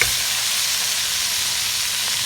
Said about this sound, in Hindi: अब गरम घी है, इसके अंदर हम प्याज ऐड कर देंगे।